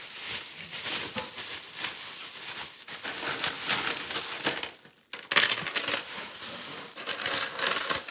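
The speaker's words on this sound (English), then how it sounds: "Okay, let's get the coins." Coins from a stash haul are handled and dropped, making steady close metallic clinks and jingles over about eight seconds, with a brief pause midway.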